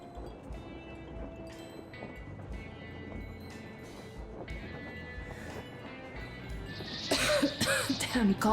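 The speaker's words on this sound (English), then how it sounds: "Damn coughing. We've left those sands long ago, and it still persists." A character in Metro Exodus coughs and clears the throat in a few rough bursts over a low in-game train rumble, ending in a louder harsh stretch.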